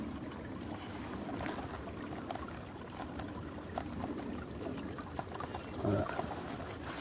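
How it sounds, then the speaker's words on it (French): Steady, gentle water trickles outdoors in a forest, a small stream flowing out of brambles near beehives, heard as a continuous wash with a few faint higher chirps. "Un petit ruisseau qui sort des ronces là."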